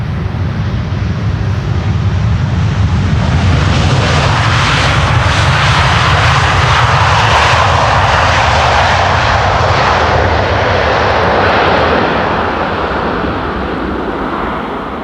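Delta Airlines A330neo jet arriving at Schiphol on the Polderbaan 18R, a loud rushing engine roar swelling and holding as it passes near, then tapering off, with some wind buffeting and no talking.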